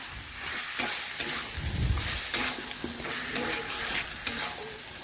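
Chicken and potatoes frying in spices while being stirred, a continuous soft sizzle broken by repeated sharp scrapes and taps of a utensil against the pan.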